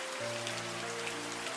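Steady rain falls in a dense, even hiss of drops on a surface, with a faint low sustained hum underneath and no voices.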